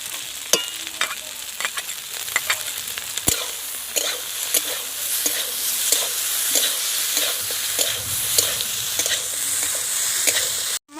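Spice paste with mustard paste, ginger and garlic frying in a pan for a prawn and okra curry, a steady sizzle under repeated scraping strokes of a spoon, close and fairly loud throughout.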